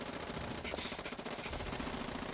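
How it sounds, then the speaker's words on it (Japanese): Rapid machine gun fire from the video game Gravity Daze 2, a dense, steady rattling stream of shots that runs through the whole moment at constant loudness, mixed with game sound and no clear speech. "うわ、撃ってる撃ってる。めっちゃ撃ってる。"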